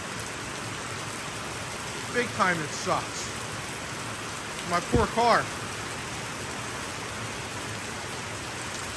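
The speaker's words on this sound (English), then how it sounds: "Rain, about 3 times a week. Just like this, it sucks." Steady rain falls outdoors as a constant hiss of drops on surfaces, with someone speaking briefly over it twice.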